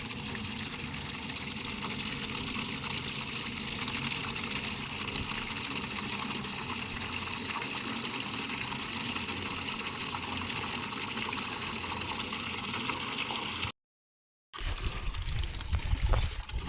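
Water filling a trough for cows in a village pasture: a steady, close rushing gush of flowing water that cuts out briefly near the end and then resumes, with no talking.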